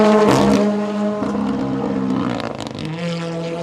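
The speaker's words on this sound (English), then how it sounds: "You hear that rev limiter?" Rally car engine at full throttle over a jump at the Overmountain Rally in Tennessee, a loud, sustained harmonic drone with a stuttering buzz where the rev limiter cuts in, dipping briefly before holding high again.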